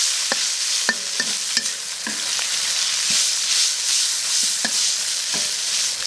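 Garlic and pickled chilies stir-fried in a hot wok for a lamb dish, a steady loud sizzle running throughout, broken by sharp spatula clacks and scrapes against the metal at irregular intervals.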